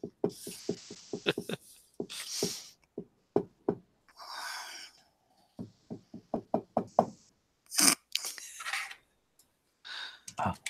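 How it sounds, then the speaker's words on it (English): A tentative knocking on a door comes in several short clusters of light raps spread across the span, mixed with breaths, sighs and other faint sounds, with quiet gaps between. "You'll hear this very tentative knock on the door, Carter."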